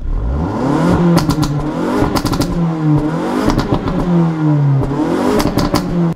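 A 2023 Ford Focus ST hot hatch in race-track mode, its engine revving loudly and repeatedly, climbing and falling in pitch with crackling pops and bangs between each rev.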